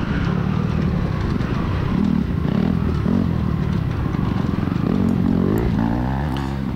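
A two-stroke dirt bike engine drones steadily with rough, buzzing vibration and rattling clatter throughout, fairly close.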